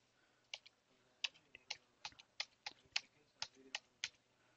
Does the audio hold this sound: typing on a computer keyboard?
yes